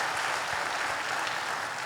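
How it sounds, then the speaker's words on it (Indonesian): A church congregation applauds together, a steady dense wash of clapping hands filling the room with no pauses. "Tepuk tangan buat Tuhan Yesus."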